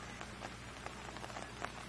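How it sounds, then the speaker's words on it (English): Heavy rain pours onto a high school baseball field during a Holliston versus Ashland game, a steady dense hiss with scattered sharper drops, continuous and fairly faint, with no talk over it. "the rain now comes down harder, and it looks like we're going to have a delay"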